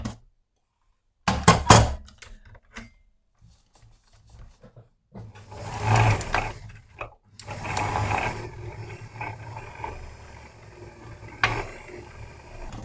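A sewing machine winds underthread onto a bobbin in a workshop making a waxed fabric tool roll, starting with a knock and mechanical clicks, then running in whirring bursts with short pauses between.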